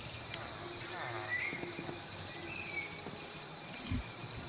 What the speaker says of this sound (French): J'entends un moustique, c'est dans la vraie vie ou dans le jeu?